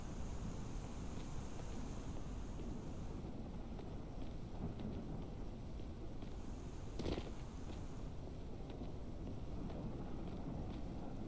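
Steady rain falls in the survival video game Mist Survival, a constant soft hiss with a brief rumbling gust near the middle, faint and even throughout.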